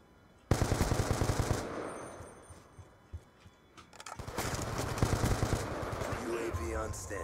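Rapid automatic gunfire from a Call of Duty Black Ops 2 match on PC, bursts of loud sharp shots that keep rattling through the clip, with voices talking over the action.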